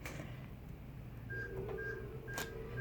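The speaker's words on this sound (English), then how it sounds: "So as you could hear the beeps" A few faint electronic beeps from neurofeedback computer equipment sound at a steady pitch over a low background hum, soft and somewhat distant.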